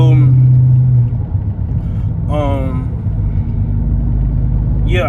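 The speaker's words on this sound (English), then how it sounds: "I took my mufflers and my resonators off my car" A Dodge Scat Pack with its mufflers and resonators removed idles with a loud, deep exhaust rumble that stays steady the whole time, while someone speaks over it.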